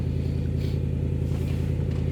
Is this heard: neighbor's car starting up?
yes